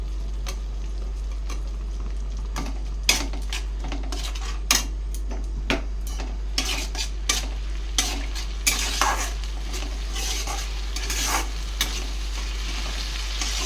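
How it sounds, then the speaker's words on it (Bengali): Chopped tomato being sautéed and stirred in a pan at home, with a soft, steady sizzle beneath repeated close clinks and scrapes of a spoon against the metal, no voices. "তো টমেটো কুচিটা দিয়ে সুন্দর করে কিন্তু আমি কষিয়ে নিচ্ছি"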